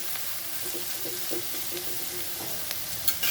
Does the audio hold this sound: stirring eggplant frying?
yes